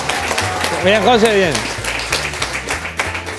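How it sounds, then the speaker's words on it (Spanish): Studio audience on a Spanish-language variety show applauding, a short burst of clapping mixed with voices, as someone speaks briefly over the applause. "un aplauso"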